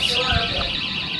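A home security alarm at a house in Canada beeps in a steady pulsing pattern, loud and close, while a person speaks over it.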